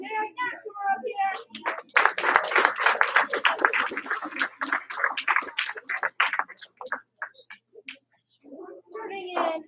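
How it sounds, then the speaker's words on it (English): A classroom of children doing a group cheer of one clap followed by two stomps, a burst of rhythmic hand and foot hits mixed with kids' voices, with a teacher talking before and after. "Your one clap. Two stomps."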